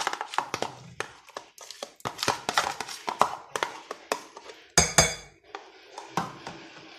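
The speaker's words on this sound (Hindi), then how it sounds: "दही भी इसमें मिक्स कर दिया।" Yogurt being stirred into a chicken marinade in a bowl for Bihari boti, a utensil clinking and tapping against the bowl in quick, uneven strokes, close and clear, with no talk.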